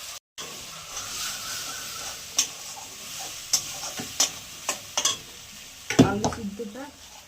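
Water hits a frying spice mix with black cumin for stuffed chili chops, sizzling steadily while a spoon knocks and scrapes the pan in irregular strokes, ending in a louder splash and stir.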